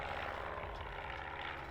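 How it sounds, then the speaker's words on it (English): A propeller plane drones somewhere overhead, a steady distant engine rumble filling the whole stretch with no one speaking. "Oh, there's like a plane somewhere."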